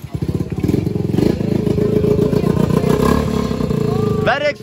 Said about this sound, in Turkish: Ayak marşı basalım.